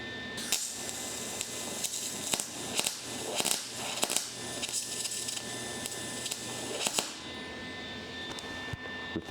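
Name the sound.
welding on a car steering column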